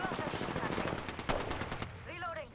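Rapid automatic gunfire in Apex Legends rattles in dense bursts at moderate volume, with a voice briefly cutting in near the end.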